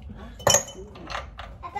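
Ice cubes are dropped back into a container while making sablé cookies in a home kitchen, giving one sharp clink followed by a few softer rattles under quiet conversation.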